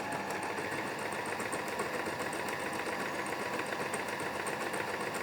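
A Singer Start 1306 sewing machine stitches slowly with a steady motor whir and a regular, rapid ticking of the needle, close and even throughout, with no voices.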